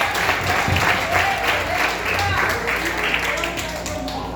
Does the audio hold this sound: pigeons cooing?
no